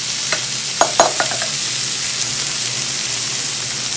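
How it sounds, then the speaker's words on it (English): Century Tuna sisig sizzles loudly and continuously on a hot sizzling plate, a dense close hiss with a few sharp clinks and scrapes of a utensil early on. "papainitin pa natin dito sa sizzling plate"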